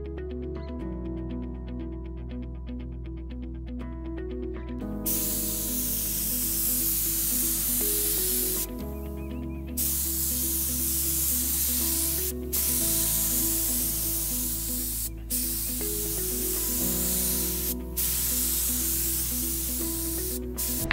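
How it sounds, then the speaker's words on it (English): A paint sprayer applies clear poly top coat to a vintage wood desk, its steady loud hiss running in several long bursts separated by brief pauses. "I'm going to seal this piece with clear coat, and I'm going to use my paint sprayer to finish this up."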